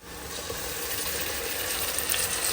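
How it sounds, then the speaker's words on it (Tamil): Ginger garlic paste fries in a pan for biryani, giving a continuous close hiss and sizzle with faint scraping and stirring underneath, no voices. "இப்போ இஞ்சி பூண்டு பேஸ்ட் போட்டு நல்லா வதக்கிடலாம்"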